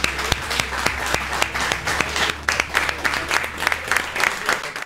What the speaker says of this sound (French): La Nova, on peut les applaudir.